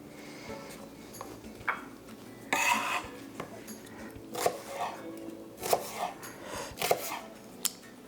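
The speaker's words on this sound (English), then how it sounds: "Now that I'm done mincing the shallot" A knife chops shallot on a cutting board in a series of sharp, irregular taps, some louder than others, close and fairly quiet, with soft voices talking at times.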